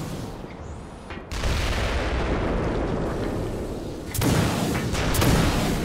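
Gunfire in Black Mesa, the Half-Life remake: heavy booming shots and explosive blasts roll through the space, with a loud burst near the start and another after a few seconds, loud and reverberant.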